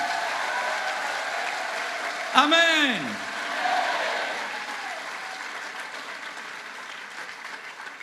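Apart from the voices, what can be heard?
audience applause at a camp meeting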